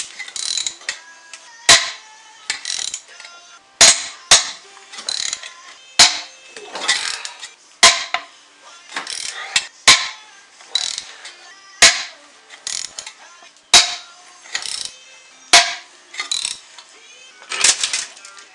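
A ratchet wrench loosening 18 mm engine bolts on a Mercedes C220 CDI W202 during an engine rebuild, heard as loud, rapid clicking bursts repeated in a steady back-and-forth rhythm, close up with sharp knocks between strokes.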